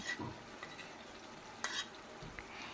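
Chicken coated in a yogurt and spice paste sizzles softly in a pan as it is stirred, with faint scraping and a few light clinks against the metal. There is no talking.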